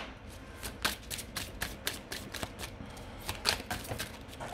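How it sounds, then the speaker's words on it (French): Tarot cards being shuffled by hand, a rapid series of crisp riffling snaps in an uneven rhythm, close and fairly quiet with no talk. "Je vais remélanger encore un petit peu les cartes"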